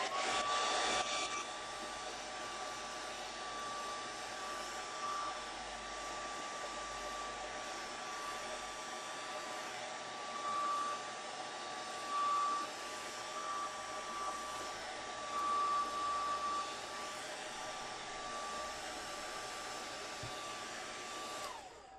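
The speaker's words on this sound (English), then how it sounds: "Let's dry this." A hair dryer blows steadily on a gelli plate print for over twenty seconds, a loud continuous whooshing hum with slight wavering and no talk.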